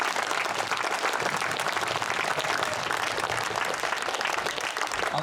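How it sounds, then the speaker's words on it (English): Steady applause from a gathered crowd at a railway museum's anniversary celebration honouring the East Anglian Railway Museum, dense clapping sustained evenly throughout without letting up. "a round of applause for the East Anglian Railway Museum"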